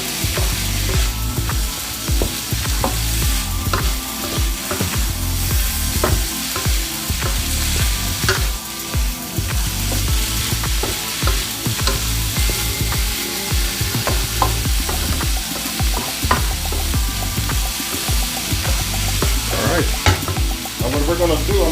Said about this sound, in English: put the asparagus back in the mix and just begin to mix it up a bit